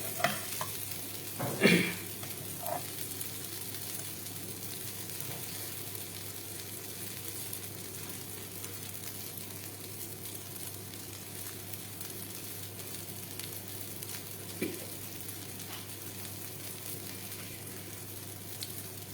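Pea and fennel shami tikkis fry in a pan with a quiet, steady sizzle throughout, broken by a louder clatter and spatter near the start and a small knock later, with no voices.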